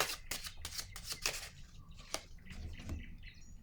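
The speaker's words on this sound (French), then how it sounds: "Je vais déposer une carte ici." Tarot cards shuffle, slide and are laid down on a table in a close, busy run of papery flicks and soft taps, ending with a distinct card set down, with no voices.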